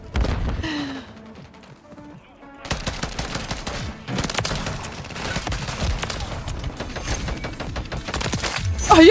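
Repeated gunfire in a Modern Warfare 3 match with a combat rifle, scattered shots early on, then a quiet gap before dense, continuous bursts of shots, loud and close, with faint other game sounds mixed in.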